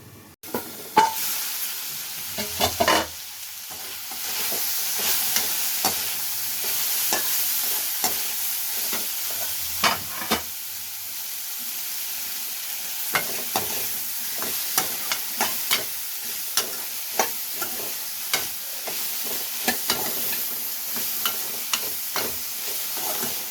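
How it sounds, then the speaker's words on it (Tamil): Bitter gourd sautés in oil in a covered pan, giving a steady frying sizzle with frequent sharp crackles and pops throughout, close and fairly loud with no talking. "இப்போ இது வந்து இந்த ஆயிலே நல்லா வதங்கட்டும்."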